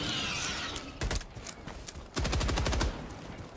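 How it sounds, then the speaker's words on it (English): Gunfire from a single-shot shotgun in the video game Helldivers 2 comes as two loud, close bursts of rapid reports over a background of ambient game noise. "This shotgun I'm using is a bit weird."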